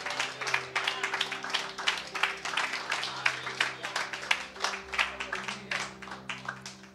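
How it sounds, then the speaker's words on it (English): A worship congregation claps on a Sunday morning, a dense, rhythmic run of hand claps that is fairly close and steady, with soft sustained music or voices underneath. "Can we just give the Lord just a hand clap this morning to thank him for his goodness?"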